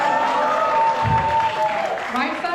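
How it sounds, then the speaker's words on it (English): Audience at a Republic Day commemoration cheering and clapping in a hall, a continuous crowd roar with scattered applause lasting the whole moment, voices shouting over it. "When I say left side, can you all cheer?"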